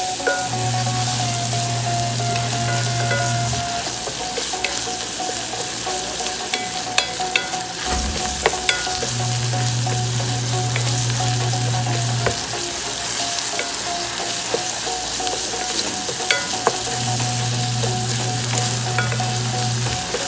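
Boiled chicken sautés vigorously in a pan for a pink rice congee (lugaw): a continuous dense sizzle and crackle of frying, with a low steady hum underneath and occasional soft stirring knocks.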